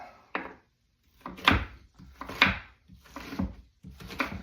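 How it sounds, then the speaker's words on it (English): Kitchen knife dicing an onion on a wooden cutting board, a handful of distinct close chopping thunks with soft scraping between them, steady and unhurried, no talking. "so we're gonna chop our onion into little dices"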